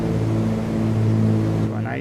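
Small piston airplane engine heard from inside the cockpit, throttled back toward about 2,100 to 2,200 RPM with manifold pressure near 21 inches; a steady, close, droning hum with strong low harmonics that shifts slightly near the end.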